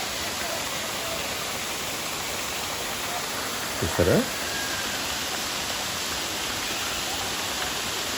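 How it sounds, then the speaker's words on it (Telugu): The small Katiki waterfall in Araku Valley gives a steady, broad rushing hiss of flowing water, with a brief spoken word from a person partway through. "అది చిన్న కటిక వాటర్ ఫాల్స్ అన్నమాట."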